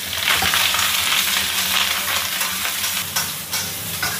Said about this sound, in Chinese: 鸡爪是需要这个大火爆炒，把上面的水汽立马给它爆干